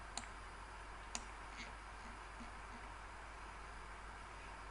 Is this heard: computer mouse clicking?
yes